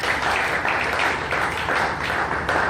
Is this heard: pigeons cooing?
no